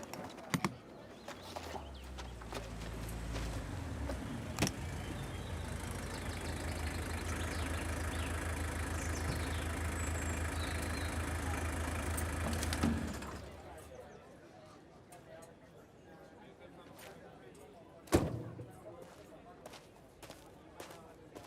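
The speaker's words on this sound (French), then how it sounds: "Tu vas essayer ta moto?" A motorcycle engine idles with a steady, even drone for about thirteen seconds and then cuts out, leaving quieter clicks and taps with faint voices in the background.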